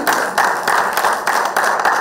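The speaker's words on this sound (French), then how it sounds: "vous fassiez des applaudissements pour toute cette équipe qui essaie de travailler" An audience at a Cameroonian ciné-club film screening claps in quick, even, rhythmic bursts for the organising team, fairly close and loud with no talking.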